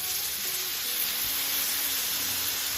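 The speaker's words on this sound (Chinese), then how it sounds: "我们沿着锅边往里面倒入适量的面粉水" Flour water poured around the edge of a hot pan of pan-fried buns, a loud steady hiss and sizzle lasting a few seconds with no talk.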